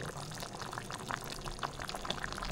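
Bamboo shoots tumble into a pot of chicken curry already at a rolling boil, giving a steady wet pouring, splashing and bubbling sound at close range, with no talk.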